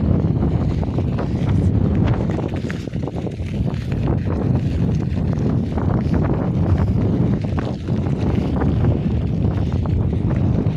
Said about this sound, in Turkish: rüzgar sesi geliyor